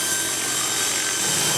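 Remote control camera helicopter rig flying close by while filming an RC car, a steady high-pitched buzzing whine like a chainsaw, continuous and loud with no talk.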